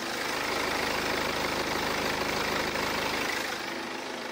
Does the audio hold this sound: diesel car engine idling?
yes